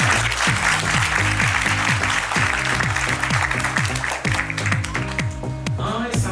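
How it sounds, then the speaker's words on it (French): An audience at a birthday celebration applauds and cheers for a young actress. The clapping is loud and continuous but partly buried under pounding, rhythmic music. "De grandes acclamations pour elle."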